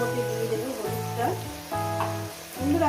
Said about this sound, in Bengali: চার পাঁচ মিনিট ধরে আমি এটাকে ভেজে নেব